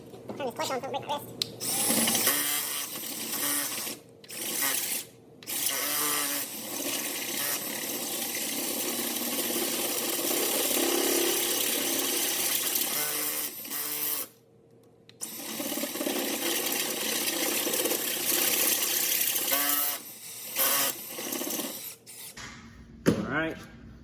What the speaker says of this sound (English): We can do them straight on with the drill.